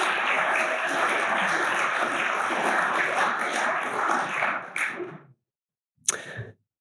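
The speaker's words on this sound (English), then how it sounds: "So if we can give a round of applause for Julia Adams." Audience applause for an award recipient at a scholarship awards ceremony: a steady, dense wash of clapping that tapers off near the end, followed by a short final burst of claps.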